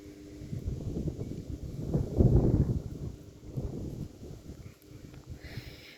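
Steady low wind rumble buffets the microphone outdoors, swelling louder in the middle before easing, with faint rustling throughout.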